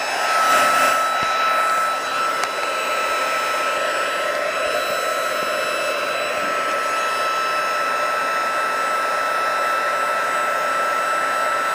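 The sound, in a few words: heat embossing tool blowing hot air on image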